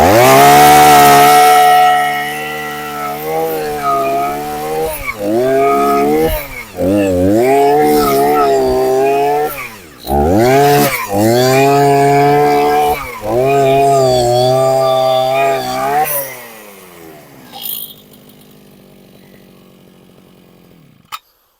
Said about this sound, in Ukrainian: Мотобур справляється своєю роботою повністю